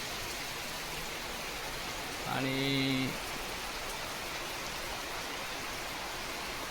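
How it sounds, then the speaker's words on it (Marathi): Heavy monsoon rain pours down in a forested area, a constant, dense hiss with no breaks, while a voice briefly speaks over it partway through. "अतिशय जोरदार मुसळधार पाऊस सकाळपासून चालू आहे"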